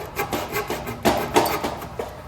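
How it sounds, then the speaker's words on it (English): A handsaw trimming out a cut in wood, making a series of close, rasping back-and-forth strokes in an uneven rhythm, short and moderately loud with no talk. "And I'll just trim this one out with a handsaw."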